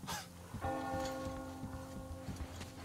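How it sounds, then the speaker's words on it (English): In the video game Metro Exodus, a single bell strikes and its ringing tone hangs and slowly fades, heard alone over low ambient rumble and faint ticking. "Do you hear that bell?"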